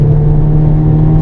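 A race car at a circuit track day drones loudly from inside the cabin, its engine holding a steady, strong low hum under acceleration with no voices.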